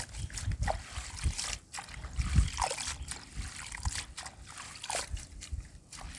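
Asiatic pennywort leaves being washed by hand in water, with steady trickling, sloshing and small splashes that carry on close by throughout, and faint voices occasionally beneath.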